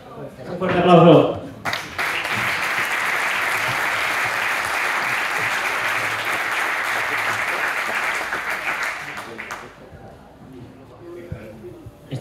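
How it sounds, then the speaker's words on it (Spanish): Dense, sustained audience applause at a bullfighting gala in Santa Bàrbara fills about eight seconds at steady loudness, with a voice speaking just before it and faint talk after it fades. "Un fuerte aplauso."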